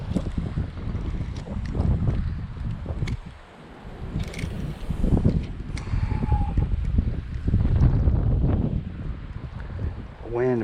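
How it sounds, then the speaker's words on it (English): Wind gusting over a public fishing pond, a loud rumbling buffet of air against the microphone that rises and falls throughout, with a voice speaking briefly over it. "Wind might be the deciding factor today."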